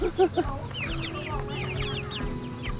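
Several chickens clucking nearby on a farm where peacocks are also kept, a busy cluster of short, overlapping clucks and squawks with a few louder calls, under steady background noise.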